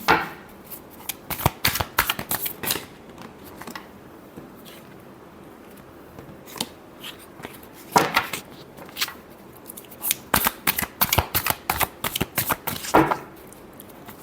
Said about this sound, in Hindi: Last shuffle, ten of cups.